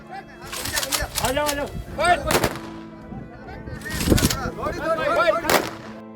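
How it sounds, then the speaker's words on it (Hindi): An army unit fires a final gun salute at a soldier's funeral: several sharp, loud rifle cracks spaced a second or two apart, ringing out over a murmuring crowd and voices. "वहीं सेना की टुकड़ी ने फायर दाग कर अंतिम सलामी दी।"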